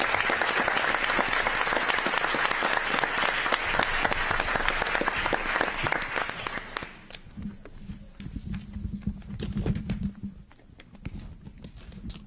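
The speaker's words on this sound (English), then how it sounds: "Please give yourselves a round of applause." Sustained applause from a gathered audience at a city council meeting fills the room loudly for several seconds, then thins out into scattered claps with a low murmur and a steady hum underneath.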